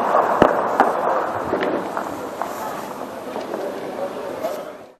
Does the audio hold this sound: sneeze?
no